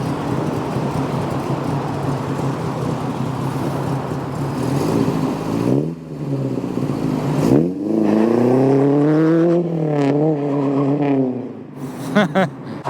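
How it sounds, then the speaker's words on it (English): Ford Anglia 100E, a supercharged pre-crossflow car with Fiesta ST seats, holds a loud sustained burnout roar, then revs rise and fall through several gears as it pulls away, with a voice talking early on. "Do a burnout. And off goes the really tidy 100E with the ST Fiesta seats in it."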